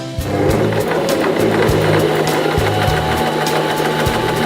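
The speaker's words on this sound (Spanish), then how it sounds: "Voy a hacer un atraque para finalizar mi costura." A Janome 2049x sewing machine stitches fabric, sewing a short backstitch to finish the seam. Its rapid mechanical needle clatter is loud, close and steady, running alone for the whole stretch.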